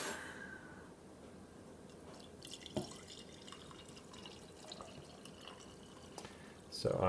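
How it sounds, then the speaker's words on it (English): Coffee poured from a French press gives soft trickling and dripping, faint and close, with small clinks and a brief louder splash near the end. "So then it's just a matter of pouring off some coffee."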